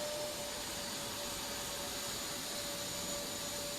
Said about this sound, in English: after several times use, the vacuum goes down, and now we see what's the capacity now